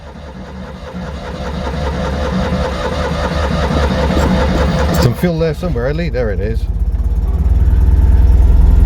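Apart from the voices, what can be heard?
Citroën 2CV engine idling after starting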